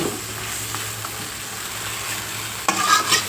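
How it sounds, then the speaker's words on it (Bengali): Discarded chicken scraps stir-fried in a pan for lotpoti, with a steady, close sizzle and soft scraping of the spatula, then a louder burst of clattering and hissing near the end. "সুন্দর করে ভালো করে কষাবেন এইভাবে কষাবেন"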